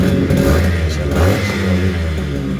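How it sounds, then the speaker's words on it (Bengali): A restored Yamaha RX100 motorcycle with a reworked silencer revs loud and close throughout, its steady throaty engine note rising and falling slightly with the throttle, alone without speech. "আর বাইকের সাউন্ড তো আপনারা শুনলেন"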